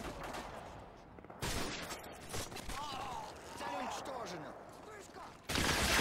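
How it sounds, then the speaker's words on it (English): G18 pistol fire in Call of Duty: rapid bursts of close gunshots, with a sharp burst near the start and another at the end, over game noise and a talking voice. "Whipped out my G18 and got him."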